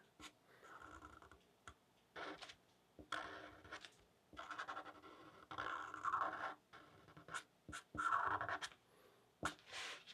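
A pen scratches across paper while uppercase letters of an ambigram are drawn, giving faint close strokes in short bursts with sharp little taps and pauses between them.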